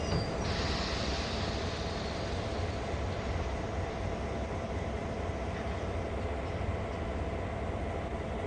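Train cars couple automatically in Train Sim World 2 during yard switching on Sand Patch Grade, with two cabs pulling. A steady, loud rumble of rail rolling noise fills the scene, with a brief bright hiss near the start.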